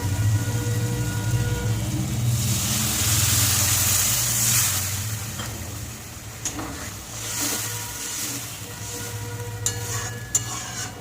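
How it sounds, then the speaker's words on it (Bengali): Water poured onto dried fish fried down in oil in a hot pan bursts into a loud, rushing hiss that slowly fades to a softer sizzle, followed by a few utensil clinks close by. "এবার দিয়ে দেবো একটু জল"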